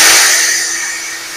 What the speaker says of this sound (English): So we got to do a little slicey on these and trim them down just about an eighth inch.